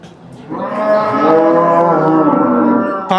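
A large cow lows loudly and close by at a livestock market in Chiroqchi, Kashkadarya, one long drawn-out moo that holds for about two and a half seconds, with faint background noise.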